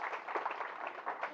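A meeting-room audience applauds with steady, dense clapping at moderate volume throughout, with no voices over it.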